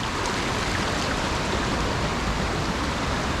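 Creek water rushing steadily through a canyon on the track to Beauchamp Falls in the Blue Mountains, a dense, continuous broadband wash that sounds loud and close with no pauses.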